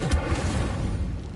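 An Incendio fire spell is cast in Hogwarts Legacy, a loud close burst of roaring flame with a heavy low rumble that surges at the start and then churns on steadily.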